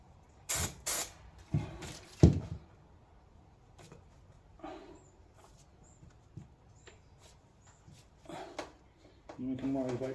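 Adhesive is sprayed in several short hissing bursts onto the headlining of a Land Rover Defender 130 TD5, with quiet handling noises between, and someone talking through parts of it.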